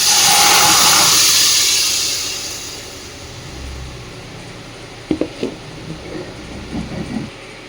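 Soaked, chopped rose apple pours into a hot wok, setting off a loud burst of hissing steam that fades over a few seconds, followed by scattered soft clunks and bubbling.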